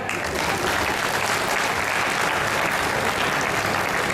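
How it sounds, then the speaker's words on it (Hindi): An audience at a Hindi comedy poetry recital breaks into loud, sustained applause, dense steady clapping from a large crowd filling the whole moment without a break. "बजाओ ताली।"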